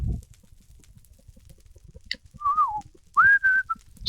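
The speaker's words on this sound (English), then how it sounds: "Shouldn't whistle during a broadcast, it's no good." A person whistles two short tuneful notes, the second higher and held, close and clear against faint background clicks.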